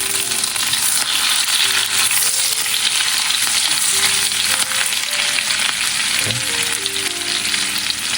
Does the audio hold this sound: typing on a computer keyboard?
no